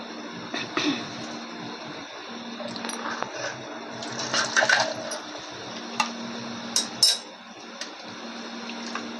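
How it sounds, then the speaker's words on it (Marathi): Chicken kharda masala simmers in a pot with a soft, steady bubbling and scattered sharper pops and plops over a low background hum. The sound stays fairly quiet throughout, with no talking. "मसाल्याला चांगली उकळी येऊ द्या"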